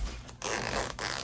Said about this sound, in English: So after the zipper slide in here